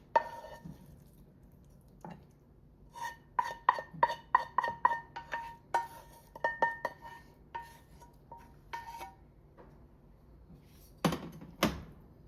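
A utensil stirs mushroom and spinach in a pan, giving a series of sharp metallic clinks and scrapes in quick irregular bursts, then pauses and a couple of louder knocks near the end, fairly close and with no talking.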